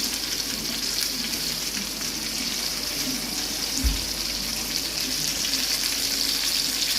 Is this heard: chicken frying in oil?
yes